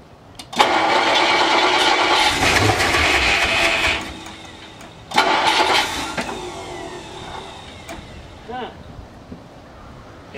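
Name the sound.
classic Ford Thunderbird engine starting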